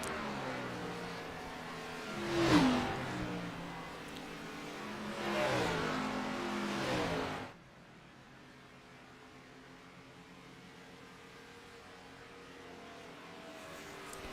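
Gen 4 stock cars in an iRacing race at Homestead-Miami roar past in two close waves, the second swelling and trailing off sharply, leaving a faint engine hum in the distance.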